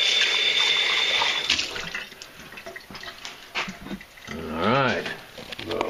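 Liquid pours in a steady splashing stream for a couple of seconds, then thins to trickles as voices talk nearby.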